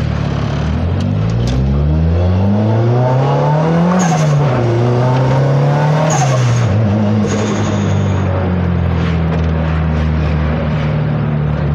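A loud, close turbocharged Honda Civic Estilo engine revs upward, drops in pitch at two quick gear shifts around 5,000 rpm, then keeps roaring and climbing. No talking.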